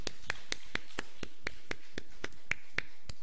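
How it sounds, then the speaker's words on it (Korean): A church congregation claps at a Sunday worship service, giving a dozen or so distinct, evenly spaced hand claps in a steady rhythm, close and fairly quiet, with no talking. "우리 박수로 우리 하나님께 영광을 올려드리십시오."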